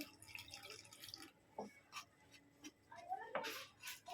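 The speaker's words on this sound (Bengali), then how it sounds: "জল দেবো" Water trickles and drips faintly into a bowl of cornflour batter being mixed for fried fish cutlets. The sounds are soft, intermittent splashes close by, with quiet background noise.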